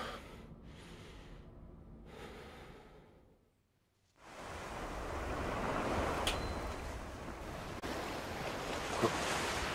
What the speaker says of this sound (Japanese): 海だ。